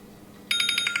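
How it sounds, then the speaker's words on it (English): A kitchen oven timer goes off while butter cookies bake, giving a rapid series of bright, evenly spaced electronic beeps, close and clear, starting abruptly after a moment of quiet room tone. "Oh, Danielle, there goes the alarm."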